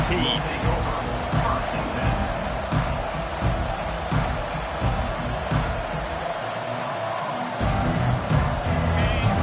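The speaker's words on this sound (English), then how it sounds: "This crowd bringing an ear-splitting welcome to their visitors." Stadium crowd in the Madden 25 football video game, a continuous loud roar of cheering fans that dips briefly and swells again, heard under play-by-play commentary.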